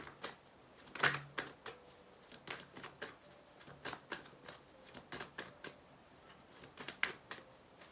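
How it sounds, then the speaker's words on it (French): Tarot cards are shuffled in soft, quick riffles and taps, a steady patter of light slaps and flicks that continues close and quiet for about eight seconds with no talk. "Je bats les cartes là simplement."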